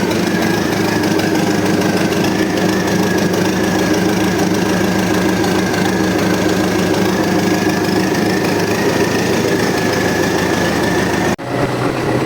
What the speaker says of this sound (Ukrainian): холодний запуск. Спочатку трохи заводимо на глушилки, щоб трохи масла розкидало.